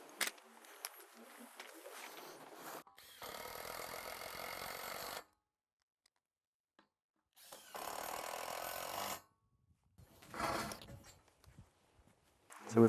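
Power drill driving 50mm Tex screws into scaffold sole boards under base jacks, several separate bursts of whirring a couple of seconds each with silent pauses between, fairly close.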